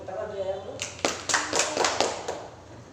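A classroom of students claps hands in a brief burst of several sharp, close claps following a few seconds of a voice speaking.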